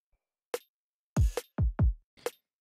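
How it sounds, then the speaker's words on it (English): Soloed drums from a music production, with punchy booming kick hits and sharp crunchy, clanky orchestral crash accents scattered over about two seconds against silence, dry and close. "it's basically just like a cashmere orchestra crash clank thing"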